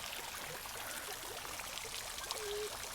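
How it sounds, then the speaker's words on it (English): Water flowing and splashing in old ornamental Victorian waterfalls on a seafront promenade, a soft steady stream-like rush, faint and continuous. "So we've got all the old original Victorian waterfalls and stuff, which is pretty."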